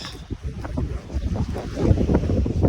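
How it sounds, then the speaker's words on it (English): Gusty wind buffets the microphone in rough, fluctuating bursts on a chilly Colorado day, rising stronger toward the end. "Another windy day."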